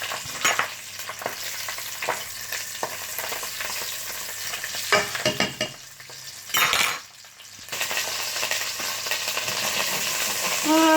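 Sausages sizzle and spit steadily in a hot frying pan, with occasional scrapes and clinks of a utensil stirring them; the frying runs continuously and fairly close, briefly dipping before resuming.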